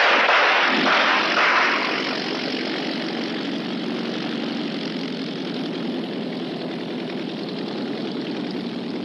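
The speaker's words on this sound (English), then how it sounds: "That's a pickup plane." A propeller pickup plane drones overhead, loudest at first and then settling into a steady, sustained hum that fills the whole stretch with no voices.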